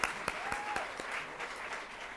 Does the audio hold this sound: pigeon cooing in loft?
no